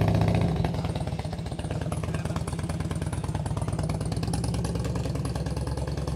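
A carbureted Harley-Davidson Fat Boy engine idling nearby, a steady low throbbing rumble with an even pulsing beat, loud and continuous with no talk over it.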